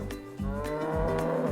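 A black and white farm cow gives a short, low moo over a steady, rhythmic background that lasts the whole moment.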